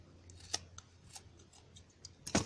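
Scissors snip through a bundle of yarn strands for a crochet comfort doll, a couple of soft close clicks followed by a firmer crisp cut at the end, quiet and near.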